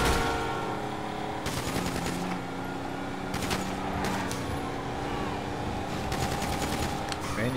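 Automatic machine gun fire in Grand Theft Auto 5 Online, sustained bursts rattling over a steady street and traffic rumble, with several distinct louder volleys breaking through.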